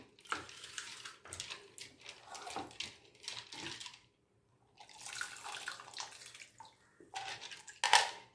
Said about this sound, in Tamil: புளி தண்ணி கொஞ்சமாக கரைச்சி ஊற்றிக்கலாம்